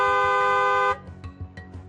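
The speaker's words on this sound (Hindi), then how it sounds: "हॉर्न बजाएं।" A car horn blares in one steady, loud honk for about a second, then cuts off into low rumbling background noise.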